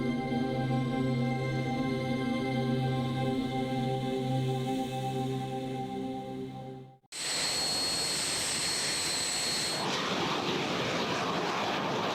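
A restored Messerschmitt 262 jet aircraft gives a loud, sustained engine drone with steady tonal whine, then a sudden shift to a harsher, broadband roaring rush up close.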